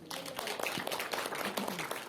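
Congregation clapping in a church service, a brief burst of many hands close and fairly loud, with voices mixed in.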